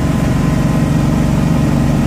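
A boat engine from a StingRay runs steadily on old fuel, a loud, close, even low rumble with a throbbing idle-like vibration and no speech.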